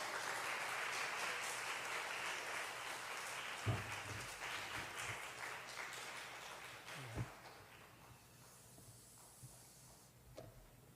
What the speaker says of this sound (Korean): 선교사님 나오실 때 큰 박수로 환영해 주시고 격려해 주시면 좋겠습니다